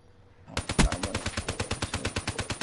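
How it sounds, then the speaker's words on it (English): Rapid machine gun fire from the Black Ops 3 video game starts abruptly after a quiet moment, a loud steady burst of evenly spaced shots with a heavier hit near the start, and no talking. "Jesse, what are you shooting at, Jesse?"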